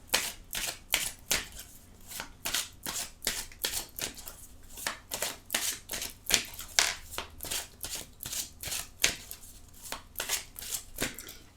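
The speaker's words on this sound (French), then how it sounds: "je vais mettre cette carte ici." Tarot cards are shuffled, flicked and laid down one after another at close range, a steady run of crisp slapping and riffling clicks with no talking.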